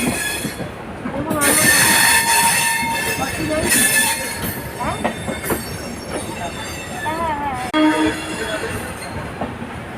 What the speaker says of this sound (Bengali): আমাদের হাওড়া থেকে ট্রেন ছেড়ে দিয়েছে, ভুবনেশ্বর যাওয়ার জার্নি স্টার্ট।